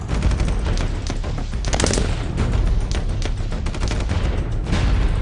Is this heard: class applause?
no